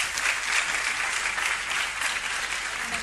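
Steady applause from an audience at an academic award ceremony, dense, even clapping filling the whole moment without talk.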